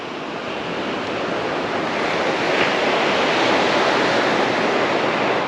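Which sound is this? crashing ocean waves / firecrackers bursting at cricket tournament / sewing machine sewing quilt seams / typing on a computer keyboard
crashing ocean waves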